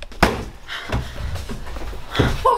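Door slammed shut in a tense scene, a sharp thud near the start, followed by heavy panting, shuffling and bumps nearby.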